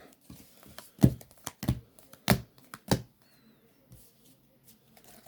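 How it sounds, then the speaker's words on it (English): A deck of playing cards being cut and shuffled during a Yu-Gi-Oh duel with a Blue-Eyes White Dragon deck: a few sharp riffling bursts and soft card taps, close and fairly quiet, with no talking. "Shuffle the deck really good."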